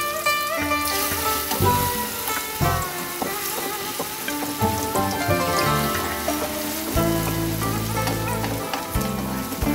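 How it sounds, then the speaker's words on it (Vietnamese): Sliced shallots and minced garlic frying in hot oil, a steady dense crackling sizzle throughout, heard alongside background music, with no talking. "Giờ mình tiếp tục mình cho hành tím với tỏi băm vô luôn nha cả nhà."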